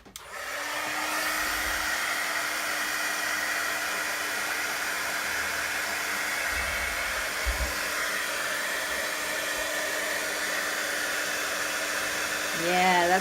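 A heat tool blows with a loud, steady whir to dry watercolor paint on canvas, running close and continuously from the first second to the end, and a faint voice can be heard beneath it near the close.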